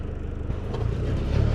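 A car drives out from Court Farm toward the main road, its engine giving a steady close rumble that swells slightly as it pulls away.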